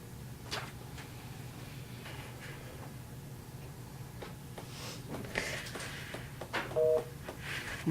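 Two brief touch-tone beeps sound from a telephone late in a quiet room recording, faint against low background hum with scattered soft knocks and movement noises.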